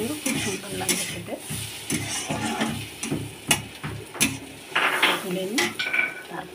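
Chopped bottle gourd frying in oil in a pan while a spatula scrapes and stirs it, producing repeated clinking metal strokes over a soft background sizzle, close and fairly quiet, with no voices.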